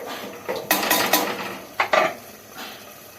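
Chana dal stir-fried with masala in a pot, a metal spoon scraping and clanking against the pot in a few sharp, uneven bursts over a quiet, faint background.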